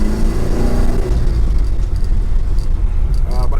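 A 1976 Alfa Romeo Alfetta GT with a 1.6-liter four-cylinder engine, driven on the road: a loud, close engine drone and rumble that rises in pitch as it pulls through the gear, with a whirring drivetrain underneath.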